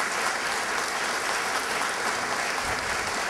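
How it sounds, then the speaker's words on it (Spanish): Solemn municipal ceremony audience giving dense, loud applause during a civic medal presentation in Miraflores, an even roar of many hands clapping without pause, with no voices on top. "Fuerte las palmas"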